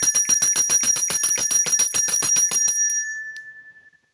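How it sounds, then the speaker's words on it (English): A hand-held store bell is rung rapidly, about fifteen bright, even strikes over nearly three seconds, then stops and leaves a clear ringing tone that fades out alone. "This one is the store bell,"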